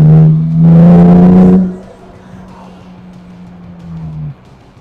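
A 2014 Morgan Brooklands Roadster with a 3.7-litre V6 engine, heard up close as a loud rising engine note under acceleration that then drops back to a steady, lower cruising drone before fading out.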